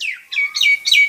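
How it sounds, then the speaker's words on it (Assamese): Several bright, clear chirps from birds calling outdoors, repeating in quick rising-and-falling phrases close by, with no voices over them. "এয়া পুৰা চৰাই মাতি আছে"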